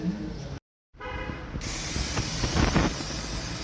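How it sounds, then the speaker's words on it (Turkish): Brake cleaner spray is blasted onto car clutch parts and the flywheel mounting area of a car with 120,000 km, after an original clutch set is removed. A steady, close hiss runs for a couple of seconds after a brief gap. "Balata spreyiyle pırıl pırıl yakıyorum."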